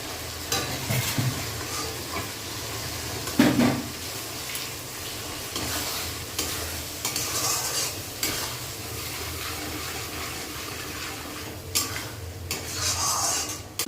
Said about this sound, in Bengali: এবার এটা মশলাটাকে ভালো করে কষিয়ে নেব